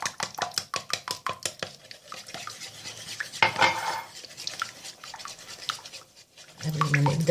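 A spoon briskly stirs yeast, sugar, salt, water and oil in a bowl, giving rapid rhythmic scrapes and clinks up close that then slow into softer, scattered taps.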